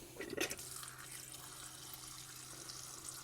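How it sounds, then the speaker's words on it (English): Water pours steadily into a pot, a brief splashy burst at the start and then a soft, even stream, fairly faint. "Let's just put some water in there."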